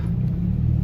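A yellow Lamborghini's engine rumbles low and steady at close range during an owners' gathering at Pavilion, Kuala Lumpur, a brief continuous drone with no talk.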